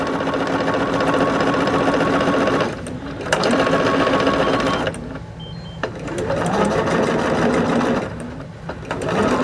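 A sewing machine stitches a quilt block, its rapid steady whirring running loud and close with brief pauses between seams.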